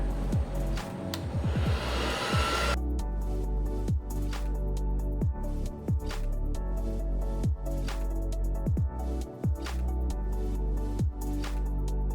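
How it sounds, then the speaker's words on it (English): A hair dryer blows over an acrylic paint pour with a loud whooshing rush for a few seconds, then cuts off, leaving scattered light tapping sounds. "Maybe I'll use my blow dryer just a little bit."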